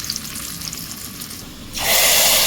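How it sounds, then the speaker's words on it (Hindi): Quiet kitchen clatter, then a sudden loud sizzle as tempering spices hit hot oil for black chickpea curry, the crackling hiss continuing strongly. "ये ज़बरदस्त का हमारा तड़का"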